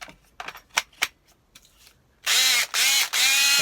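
A repaired cordless drill is tested: a few short clicks and taps first, then three loud bursts of the motor whirring at speed, each cut off briefly between triggers, close up.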